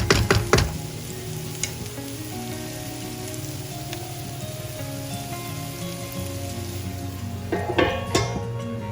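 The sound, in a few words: onions cooking covered in a pan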